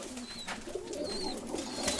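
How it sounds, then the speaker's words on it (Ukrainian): Breeding pigeons coo softly in a loft during the breeding season, with low burbling calls under a noisy background and faint higher chirps. "Оця голубка, що ти шукав"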